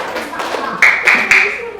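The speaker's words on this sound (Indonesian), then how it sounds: "Oke, tepuk tangan buat kelompok 3." A classroom group claps briefly for another group's presentation, a few sharp claps near the end following a voice.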